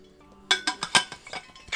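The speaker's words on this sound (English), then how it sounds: "Whoops! I put an ice cube in it." An ice cube dropped into a small container of water for mixing face paint clinks against the sides, giving a quick run of bright, close clinks and taps that fade into lighter knocks.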